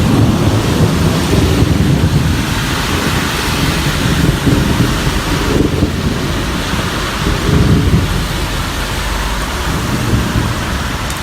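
A thunderstorm over Amiens, France, with steady heavy rain and low rolling thunder rumbling throughout, close and loud, with gusts of wind buffeting the microphone.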